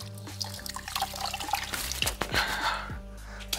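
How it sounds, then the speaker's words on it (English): A wet towel is wrung out by hand after a car wash. Water drips and trickles for a few seconds with some splashing, over a quiet background with music. "Take another one here and I'll really wring it out."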